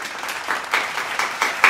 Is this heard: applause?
yes